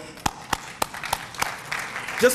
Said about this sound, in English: you ought to give yourself a round of applause